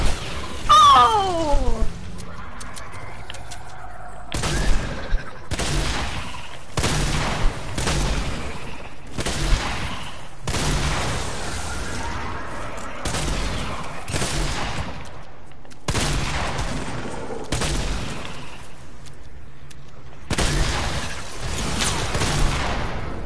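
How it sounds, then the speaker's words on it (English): Sniper rifle fire in a video game, a series of loud separate gunshots with sharp attacks, spaced a few seconds apart across the clip, with faint game ambience and a brief whooshing sweep near the start. "That was me shooting the sniper, yes."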